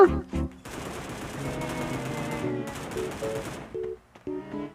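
Gunfire in the video game Sausage Man, a rapid automatic burst followed by a few shorter bursts, loud and close, mixed with game music tones.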